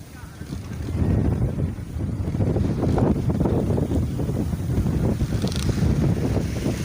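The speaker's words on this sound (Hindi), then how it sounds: "हवा बहुत तेज़ है।" Strong wind gusts roar and buffet the microphone at a crowded cattle market where dust is blowing, a steady loud rush with a busy murmur of people underneath.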